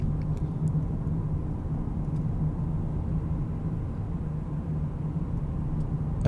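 Car driving along Portapog Hill Road in Connecticut, a steady low road rumble and engine drone from inside the cabin, constant and even with faint ticks above.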